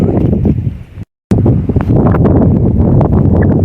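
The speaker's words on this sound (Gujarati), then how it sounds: "પવન અત્યારે જુઓ, વાત ન પૂછો ને એટલો બધો પવન ચાલુ છે" Strong wind sweeps across a cotton field on a farm, buffeting the microphone in loud rough gusts with a brief dropout early on and no voices.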